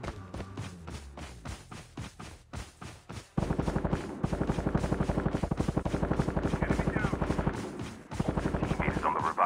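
Revive flight helicopter in Call of Duty Mobile, a loud, rapid rotor chop that thumps steadily, briefly fades, then returns at full volume with faint gunfire mixed in.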